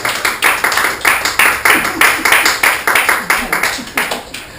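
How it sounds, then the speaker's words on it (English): Wedding guests clap after the kiss at a ceremony, a steady run of loud, evenly spaced claps close by, as from a small group clapping in near unison. "And everybody can give them a round of applause."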